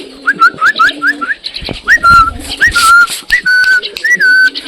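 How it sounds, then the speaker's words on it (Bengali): Repeated bright whistled calls from pigeons, rising and falling in quick phrases, close and fairly loud with a little background rustle. "এদিকে রাহু কিছু পায়রা চলে এসছে"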